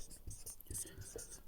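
Chalk writes on a blackboard in a quiet classroom, making a few faint, brief scratchy strokes in short bursts.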